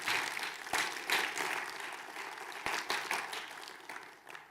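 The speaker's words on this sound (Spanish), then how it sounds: "Denle un aplauso a Jesús." A church congregation applauds for Jesus during a Spanish-language sermon, a fairly quiet, continuous patter of clapping with a few sharper claps standing out, slowly tapering off.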